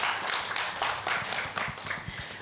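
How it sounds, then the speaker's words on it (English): A live audience claps at an outdoor culinary cook-off as thanks to the sponsor Pick and Pay, a fairly even patter of hands with a few sharper nearby claps standing out, loud and close. "Please give a round of applause to Pick and Pay."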